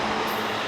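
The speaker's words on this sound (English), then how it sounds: "You have trains going by." Trains roll past in a normal alleyway in a Yokohama neighborhood, making a loud, steady rumbling roar that fills the whole brief moment.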